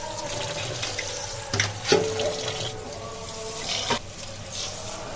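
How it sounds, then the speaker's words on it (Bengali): Rice being washed under running water while cooking biryani at home, a steady tap stream with a few splashy surges and sloshes, close and fairly quiet. "তো এখন আমি চাউলটা ধুয়ে নিব।"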